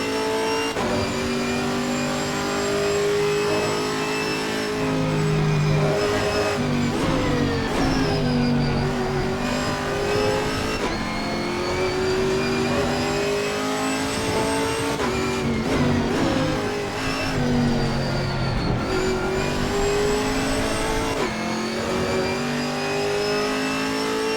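A Chevrolet Camaro GT4 race car in a racing video game at Donington Park revs hard, its engine climbing and dropping through repeated gear changes in a sustained, loud drone with no talking.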